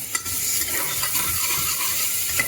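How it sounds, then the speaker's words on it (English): Onions frying and being stirred in hot oil with cinnamon and cloves powder, a steady close sizzle and scraping stir lasting the whole moment, with no talking. "We'll be adding onions to the oil."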